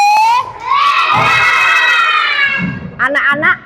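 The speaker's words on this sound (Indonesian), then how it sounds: "Tepuk tangan untuk 1B. Semakin keras, semakin keras." First-grade schoolchildren in an elementary classroom clap and cheer loudly, with shrill shouting voices over a short burst of clapping near the end.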